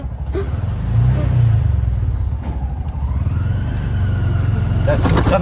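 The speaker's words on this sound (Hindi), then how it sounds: "ये हमने चला लिया ऑटो।" An auto rickshaw engine runs while driving, a loud low rumbling drone that holds steady with slight revving and shifts in pitch, close by throughout.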